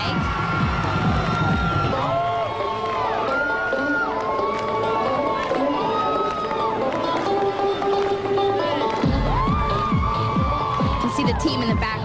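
A gymnastics team claps, cheers and whoops from the sidelines during a 1999 NCAA Super Six floor routine, with steady crowd noise filling the whole stretch.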